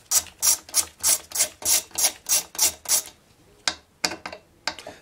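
Torx 25 screws being backed out of the magneto on an old Homelite Trim N' Edge string trimmer, giving a fast run of about nine sharp ratcheting clicks, then a pause and a few scattered louder clicks, close up with no talking.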